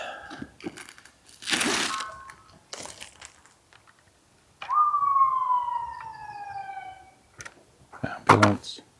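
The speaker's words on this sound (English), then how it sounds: "Ambulance." An ambulance siren sweeps past at moderate distance, a single falling wail for a few seconds, between bursts of paper crinkling, thunks and nearby movement, with people talking at times.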